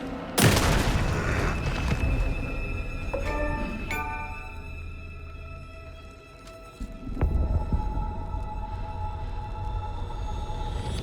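Shotgun blasts in the video game Alan Wake 2, a loud booming shot up front followed by a heavy rumbling, tonal game soundscape with further impacts, no talk.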